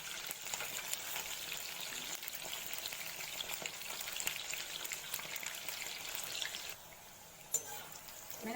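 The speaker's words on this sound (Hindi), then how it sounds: "मैंने अच्छे से अलट पलट के फ्राई कर लिया है" Chicken pakodas deep-fry in oil with a close, bubbling hiss that holds steady, briefly softens, then returns with a sharp click.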